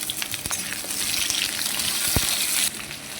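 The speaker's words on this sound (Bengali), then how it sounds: "আলুগুলোকে আগে ভেজে নিচ্ছি।" Potatoes frying in a pan produce a loud, close sizzle with crackling pops and a few sharp stirring knocks, easing slightly near the end; no one speaks.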